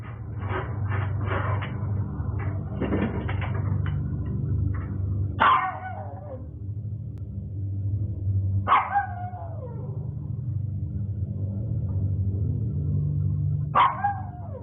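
Indoors, a dog gives three sharp, close barks spaced several seconds apart, with a rapid series of scratching or rattling taps at the start over a steady low hum.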